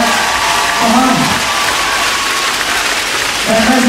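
Crowd applause and cheering from spectators at a tennis exhibition match for third place at the Mazury ORLEN Grand Slam, a steady dense wash of clapping throughout, with a voice speaking briefly near the start and end.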